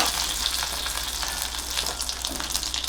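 Hing, curry leaves and ajwain hitting hot oil, after cumin, for a guar and red pumpkin bhaji, giving a loud, continuous, dense sizzle and crackle that holds steady throughout, close up.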